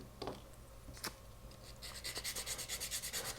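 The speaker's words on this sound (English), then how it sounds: "a little bit more sanding required" Rasping sanding strokes on a small model car wheel for a three-piece wheel build, starting with a few scattered rubs, then settling into a quick steady back-and-forth rhythm, close and fairly quiet with no talking.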